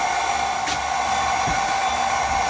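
A steady, high-pitched electric mixer motor whine runs continuously while mixing red velvet cake batter up close, with a faint thump or two beneath it.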